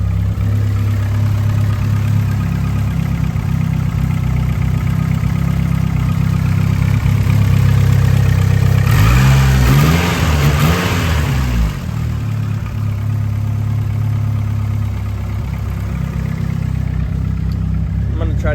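A 1990 Eagle Talon TSI AWD with a Vibrant muffler idles steadily and loud, then revs up in one rising and falling sweep before settling back to a rumbling idle.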